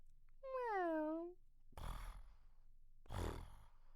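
A voice imitates a cat with one clear, drawn-out meow, close and fairly quiet, followed by two soft breathy exhalations.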